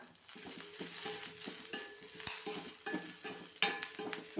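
Curry leaves frying in a pan with lentils, fenugreek and dried red chillies for onion sambar: a close, steady sizzle with frequent scraping and stirring from a metal spoon, and one sharper clink near the end.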